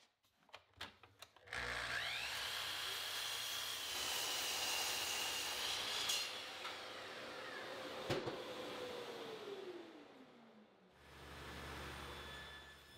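A power saw cuts white oak boards to length at a stop block, starting with a few sharp clicks and then a loud motor whine that holds steady while the blade bites, winds down with a falling pitch, then spins up again.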